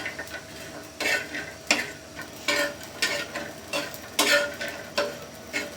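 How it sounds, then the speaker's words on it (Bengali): Dried loitta fish frying in a pan while being stirred, with repeated scraping strokes of a utensil and a steady sizzle underneath, close and moderately loud, with no talking. "এখন শুটকিটা আমি ভালো করে নেড়ে ছেড়ে ভেজে নেব।"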